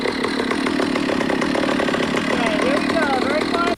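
A chainsaw runs steadily and loudly throughout, its engine droning without pause while voices talk over it.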